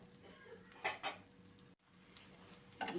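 Mutton and egg kothu stirred and turned in a pan, giving a few soft clanks and scrapes of a utensil against metal under a faint background sizzle, with a brief dropout partway through.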